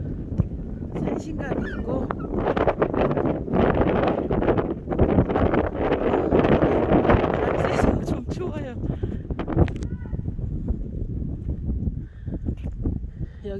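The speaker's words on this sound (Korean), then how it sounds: "바람이 되게 세요" Strong wind buffets the microphone on a Jirisan mountainside near a village and temple, a loud continuous rumbling roar that swells and eases, with a person talking through it.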